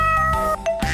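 A cartoon kitten gives two short, bright meows in quick succession, close and clear, with nothing else behind them.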